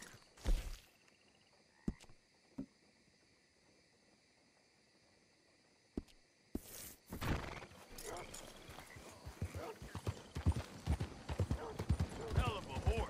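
Horse hooves clip-clop in the Red Dead Redemption 2 video game, starting as a few sparse hits after sharp noise bursts, then building into a quicker uneven trot near and clear, with someone talking over the later steps.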